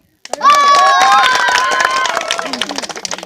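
A crowd bursts into loud, sustained clapping with cheering voices mixed in, dense at first and then thinning into scattered claps.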